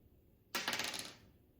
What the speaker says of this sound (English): roll the dice.